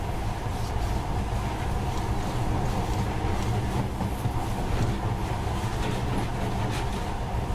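A monorail train in Metro Last Light runs steadily with a continuous loud rumble and rattle of cars on the track, a constant mechanical drone throughout without any speech.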